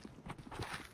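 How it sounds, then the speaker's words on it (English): Footsteps in a first-person shooter game, a quick, quiet run of soft steps at a moderate distance, heard alone. "Oh, I hear footsteps to the right"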